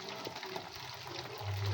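Water splashes and trickles into a cooking pot for zeera rice nearby, a soft steady pour over a faint background hum.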